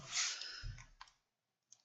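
A few quiet mouse clicks while working in 3D modeling software, a soft cluster of clicks followed by a single isolated click after a short pause.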